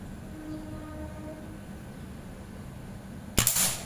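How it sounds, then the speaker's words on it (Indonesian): A single sharp air rifle shot from a Predator Monel Ataman folding rifle with a 30 cm Yumaja barrel cracks loudly near the end, following several seconds of quiet outdoor background hum. "Tembakan kedua"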